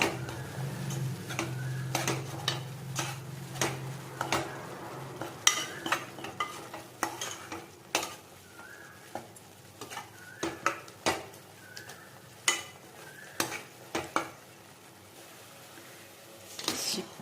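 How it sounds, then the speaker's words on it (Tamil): Chicken biryani with yogurt is stirred in a pot, giving soft, irregular scraping and tapping strokes over a faint sizzle, fairly quiet and close. "கொஞ்சம் மிக்ஸ் பண்ணிவிட்டு"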